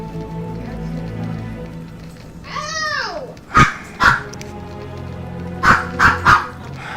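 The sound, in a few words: dogs barking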